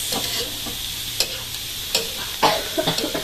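Bopis with carrots sizzles steadily in a hot pan, with scattered loud pops and spatters and the scrape of stirring rising through a continuous close frying hiss.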